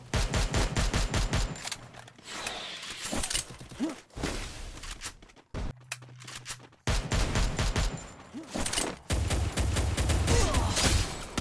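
Gunfire from the battle-royale game Free Fire during a ranked match: loud, rapid automatic bursts that repeat through most of the stretch, broken by a short quieter gap with a low hum.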